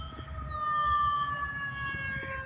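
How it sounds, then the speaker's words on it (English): A fire truck siren wails steadily at a distance, arriving at a motel where a fire alarm has gone off, with a low rumble of traffic beneath it. "here comes the ambulance and fire truck."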